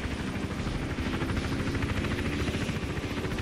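Rotor blades of a helicopter in the video game Hitman: Absolution thump in a rapid, even pulse, loud and constant, with no one speaking.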